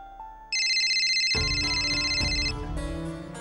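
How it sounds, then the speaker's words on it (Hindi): A phone ringtone plays loud and close as a bright repeating electronic melody, then cuts into a louder musical tune, with no talking. "रघु का ही फोन है।"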